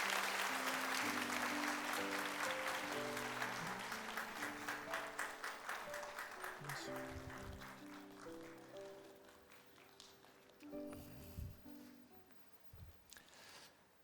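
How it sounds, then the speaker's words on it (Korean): A church congregation at a Sunday worship service in Sejong claps in a steady rhythm over sustained instrumental music, the clapping fading gradually before a brief renewed burst near the end. "자, 우리 큰 박수 보내주세요."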